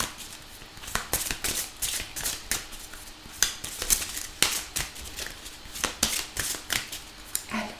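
A deck of oracle cards is cut and riffled by hand, giving a steady run of crisp, papery flicks and snaps at close range with no voices over it.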